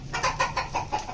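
Rooster clucking in a quick run of about six rhythmic calls, close and fairly clear over faint background noise.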